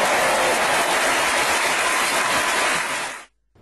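Relatives and friends at a wedding celebration burst into loud applause and cheering after the groom sinks a basketball shot, dense and sustained before cutting off abruptly into silence.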